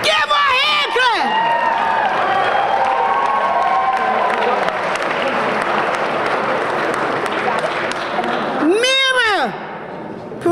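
An awards-ceremony audience in Jersey City claps and cheers for an honoree, with steady applause and several high whoops near the start and again near the end.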